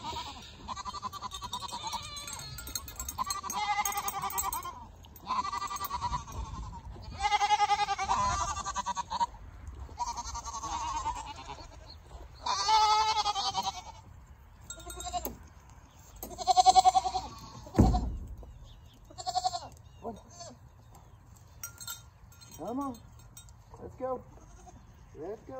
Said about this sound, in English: So they are actually full-blooded fainting goats.